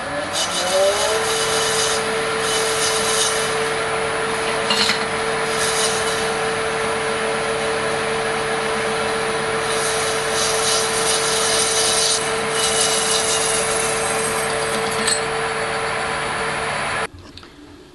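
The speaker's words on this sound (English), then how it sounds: "so it's back in the lathe to part it off" A metal lathe parts off a turned piece for a dead blow hammer, giving a steady, loud scraping whine with a constant machine hum that runs for most of the clip before cutting off abruptly near the end.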